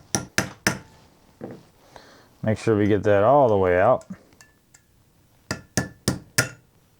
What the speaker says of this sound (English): So let's go ahead and knock out our hammer pin.